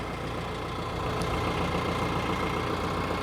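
A TYM F50R tractor engine running while the tractor is driven: a steady, continuous diesel drone, close and even in loudness throughout, with no voices.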